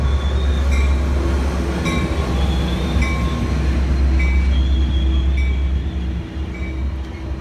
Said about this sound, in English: This is the new Angels Express train.